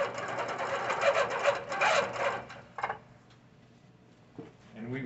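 A Baby Lock Regent sit-down quilting sewing machine with stitch regulation runs on a quilting frame, giving a dense, steady mechanical whir that fades midway, leaving quieter rubbing sounds before it picks up again near the end.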